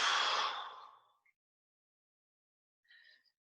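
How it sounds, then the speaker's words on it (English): A deep breath during a qigong session: one long, soft exhale that fades out over about a second, then a brief faint breath a moment later, close and quiet with no talking. "a deep breath in and out"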